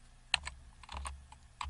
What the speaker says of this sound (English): we try typing in